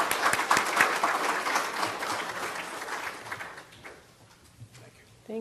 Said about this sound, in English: So please give us a warm round of applause to welcome Mr. Holman, Mr. von Spakovsky.